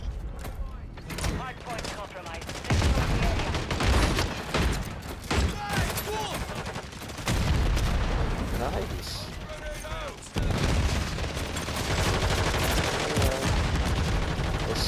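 Bursts of automatic gunfire and booms in a Call of Duty match, loud and near, overlapping with players talking over the action.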